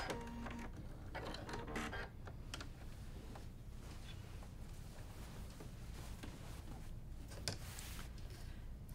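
A sewing machine sews binding onto the edge of a quilt, a faint, steady mechanical whir running throughout with a few brief clicks.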